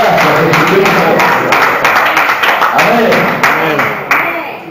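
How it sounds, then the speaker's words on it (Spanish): A congregation claps loudly and steadily at a healing and miracles church service in Chacabuco, with a dense wash of hands and a voice carrying over it. "Aplauda fuerte al Padre."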